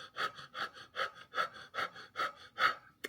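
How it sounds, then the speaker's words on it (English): A trumpet player's panting breathing exercise: quick, even, close breaths repeated about twice per second, each short huff clearly audible and alone with no talk. "you basically just pant like a dog"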